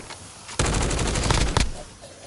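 Call of Duty gunfire erupts as a rapid burst of automatic shots lasting about a second, loud and close after a quieter lead-in, then trailing off into game ambience with no speech.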